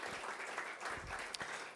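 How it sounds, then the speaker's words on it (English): An audience applauds for councilwoman Barbara Sexton Smith, with dense, steady clapping from many hands throughout and a few sharper claps standing out. "Let's give it up for Barbara Sexton Smith."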